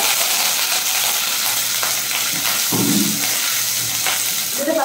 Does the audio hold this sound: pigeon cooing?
no